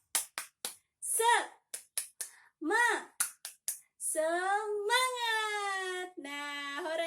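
A primary school class performs a tepuk semangat clapping chant, sharp claps in quick rhythmic groups alternating with children's voices calling out in unison, ending in a long sung chorus.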